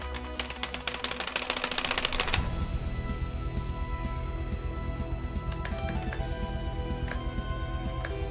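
Rapid, steady clicking of computer keyboard keys, close and fairly quiet, a dense burst of keystrokes early that settles into a continuous clatter with no one talking over it.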